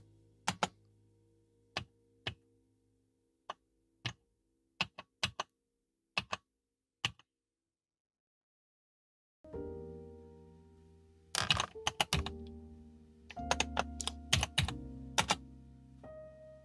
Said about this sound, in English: The keyboard looks different than the other T1000 series machines, but it appears to type the same.